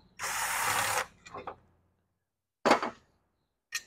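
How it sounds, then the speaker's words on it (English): A power tool, drill or impact gun, runs out screws on a Rotax 447 single-carb aircraft engine during teardown: one long loud whirring burst, then shorter fainter bursts and a final brief zip, close up. "Just run these out with the gun because it's faster."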